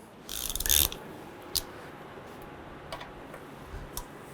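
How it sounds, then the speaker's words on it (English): A ratchet wrench loosening a rusted nut while replacing the EGR valve on a 2006-11 Honda Civic clicks in a short burst of rapid ticks, then a few isolated clicks, close and fairly quiet against a faint background hiss. "go ahead and try and loosen this nut"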